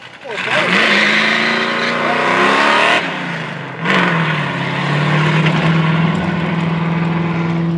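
A hot-rodded car with a roughly 400-horsepower motor revs hard through a burnout at a crowded car show, its engine roaring loud and sustained with a pitch climb, a short dip, then a steady high drone, while spectators talk over it.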